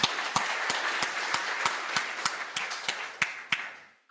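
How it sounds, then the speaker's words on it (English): An audience at a public lecture gives a steady round of applause, with sharp claps standing out in a regular rhythm above the crowd's sustained clapping before it fades out. "Please give him big rounds of applause."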